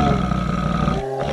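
A loud, sustained animal roar runs as a spooky sound effect in a horror bedtime story about a possessed black monkey climbing onto a rooftop at night, with no voices over it.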